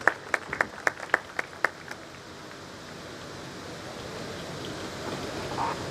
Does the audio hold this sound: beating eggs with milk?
no